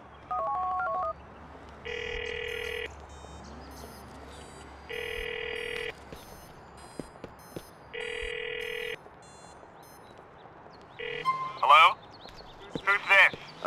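Telephone in the video game GTA IV: a short burst of dialing tones, then three long electronic rings spaced evenly, followed by faint clicks and chirpy pickup sounds near the end, with game ambience underneath.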